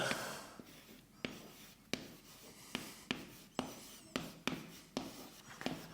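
Marker or chalk writing on a board, a series of sharp, evenly spaced strokes and taps, each followed by brief scratchy rubbing, close and clear with no talking.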